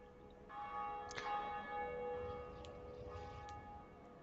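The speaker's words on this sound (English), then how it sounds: "Ring the bell of awakening at Undead Church." The bell of awakening at the Undead Church in a video game tolls once with a bright metallic strike, its rich ringing tone sustaining and slowly decaying, followed by fainter struck accents.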